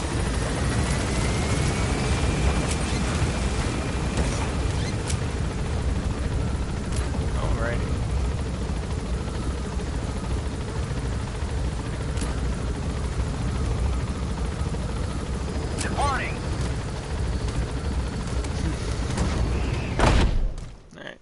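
A helicopter in the Metal Gear Solid V video game drones as a steady loud rotor roar that fills the whole stretch, with voices talking over it.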